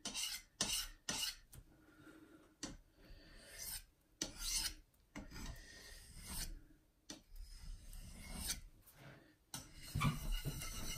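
Knife being sharpened on a natural whetstone in circular strokes, giving repeated close, rasping scrapes in uneven rhythmic bursts with brief gaps, fairly quiet overall.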